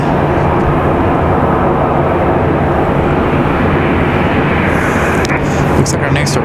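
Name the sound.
Delta airliner taxiing at Raleigh-Durham airport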